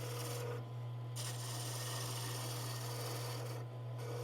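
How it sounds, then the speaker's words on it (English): A skew chisel makes a planing cut along spinning wood on a lathe, giving a steady, close rasping hiss over a constant low motor hum, with brief dips as the cut lifts. "It's a planing cut with a skew chisel"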